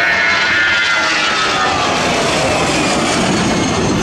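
An aircraft makes a high-speed low pass at the Slovak International Air Fest (SIAF) at Kuchyňa–Malacky. Its loud engine roar sweeps by close overhead, filling the whole stretch with a steady, descending rush.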